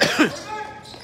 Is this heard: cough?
yes